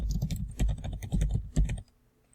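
Fast typing on a computer keyboard, a close run of crisp key clicks in quick irregular bursts for about two seconds before stopping, then near silence, with no voices.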